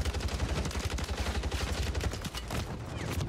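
Rapid automatic gunfire in a first-person shooter battle royale, dense bursts of shots crackling loud and close almost without pause, layered with other distant fire and no talking.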